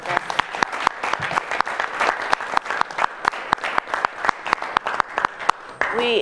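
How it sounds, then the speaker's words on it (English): Audience applause honoring veterans, a dense run of sharp claps from a room full of people, steady and fairly close throughout, with a brief voice breaking in at the very end. "can we just give every veteran a round of applause for all their service?"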